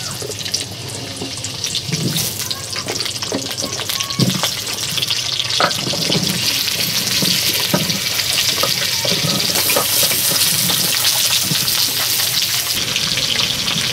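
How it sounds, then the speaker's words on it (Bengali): Long-cut potato strips fry in hot oil in a home kitchen, a steady broadband sizzle running throughout with occasional clinks and scrapes from stirring. "এরপর আমি আলুগুলো ভেজে নেব"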